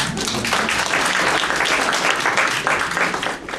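Sustained applause from a group of people, dense steady clapping that holds evenly for the whole stretch and thins slightly at the very end, with no speech over it.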